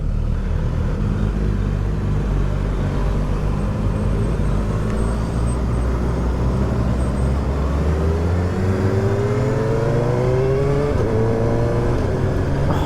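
Suzuki Hayabusa 1340cc motorcycle engine building revs under acceleration, a deep continuous growl with rising tones climbing over several seconds, mixed with strong wind rush, loud and close throughout.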